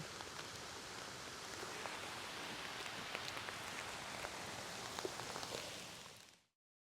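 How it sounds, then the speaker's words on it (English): Steady rain falls outdoors in a dense, even hiss with scattered droplet taps, holding at a moderate level for about six seconds before cutting off abruptly. "it's raining and get my equipment out of the rain"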